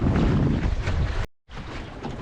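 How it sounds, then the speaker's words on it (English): Strong wind buffets the microphone while sailing a dinghy in gusty conditions on a reach with the waves, a loud continuous roar that cuts out for a moment, then returns. "So that's how crazy the wind is today."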